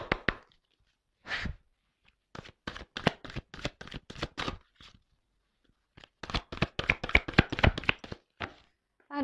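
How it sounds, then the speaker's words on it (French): Large tarot cards being shuffled by hand, a run of quick papery slaps and riffles in two bursts separated by a short pause, close and fairly soft with no talking. "Ah, les cartes, elles sont très grandes. Elles font presque la taille de ma main. Alors, c'est pas simple des fois pour les secouer."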